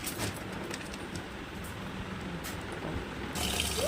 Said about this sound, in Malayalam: അരി എടുത്ത് നമുക്കിത് കൊണ്ടുപോയി നല്ല വൃത്തിക്ക് നമുക്കിതൊന്ന് കഴുകിയെടുക്കാം